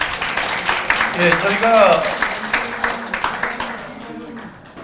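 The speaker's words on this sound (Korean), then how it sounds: "회장님께 다시 한번 박수 보내주십시오." Applause for a speaker at a Rotary club event, with clapping from the audience beneath a speaking voice that carries over it, fading toward the end.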